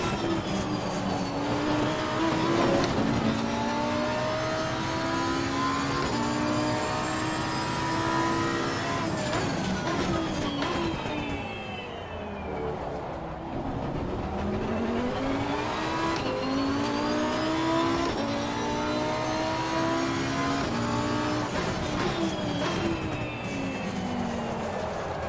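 Porsche race car on a British circuit in the sim racing game Assetto Corsa Competizione, its engine loud and steady, revving up and down through gear changes with rising and falling pitch sweeps, no talk over it.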